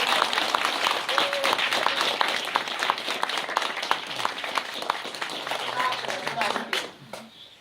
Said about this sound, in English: So how about a round of applause to start us off?